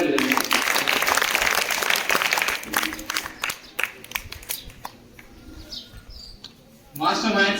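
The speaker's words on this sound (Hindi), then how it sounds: "जोरदार ताली।" Applause breaks out at a quiz competition during a rapid-fire round, first a dense burst of clapping that thins into scattered claps, then swells again near the end, with a voice speaking over it.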